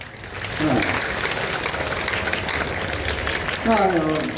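An audience at a government high school annual day in Kannarpalayam claps in a steady, dense wash of applause lasting several seconds, with voices heard near the start and end.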